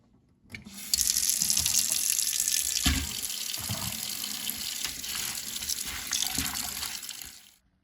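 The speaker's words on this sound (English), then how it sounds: "wash the napa cabbage with cold water once" Cold water runs steadily from a tap into a sink, a continuous rushing splash with occasional clunks and shifts as cut napa cabbage is rinsed underneath.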